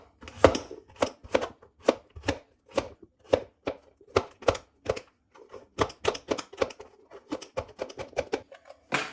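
Potatoes cut into small pieces with a handheld vegetable cutter, a quick series of crisp, close chopping strikes in uneven rhythm with brief pauses between bursts, no talking.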